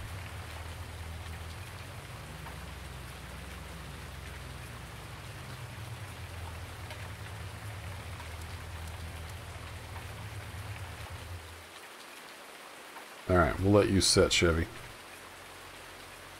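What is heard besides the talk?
rain falling in Farming Simulator 19 video game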